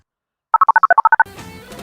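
A quick run of about ten electronic keypad tones, evenly spaced, as a phone number is dialed, followed by a faint ringing line hiss.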